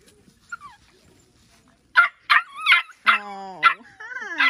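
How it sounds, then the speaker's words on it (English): Young puppies bark and yip in quick, high, close bursts after a quiet start, with a rising whimper-like yelp at the end, heard alone without talk. "They are typical puppies."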